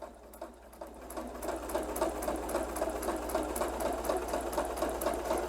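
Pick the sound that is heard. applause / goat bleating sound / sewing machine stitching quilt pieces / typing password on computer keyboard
sewing machine stitching quilt pieces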